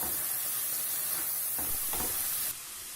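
Tomato and ketchup stirred in a pan, a steady sizzling hiss with a few soft scraping strokes midway, close and fairly quiet, easing slightly near the end.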